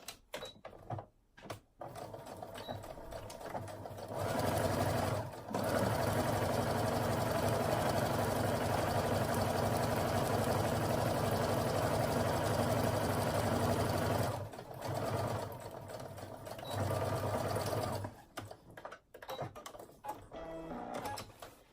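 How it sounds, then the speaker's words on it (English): A sewing machine runs a 2-inch seam in a long steady burst of fast rhythmic stitching, close and loud. A few quieter handling sounds come before and after, and no one speaks. "I think I'm fairly accurate in sewing using this little grid that's on my sewing machine"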